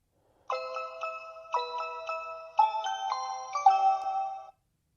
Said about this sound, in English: It did ring, so the pairing was successful.